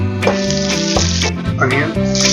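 Ginger and chopped garlic fry in a pan for soya keema, giving a bright, close sizzle with a few spattering bursts, heard under prominent background music.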